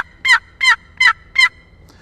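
Four evenly spaced, sharp yelps on a turkey call imitate a hen turkey, played close and loud in steady cadence with short pauses between notes.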